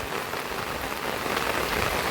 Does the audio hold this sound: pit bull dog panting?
no